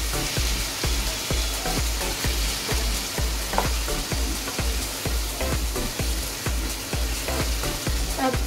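Himachali tawa chicken curry being stirred in a hot pan, a loud, rhythmic run of spatula scrapes and thumps over a constant crackling sizzle, close up and with no voices.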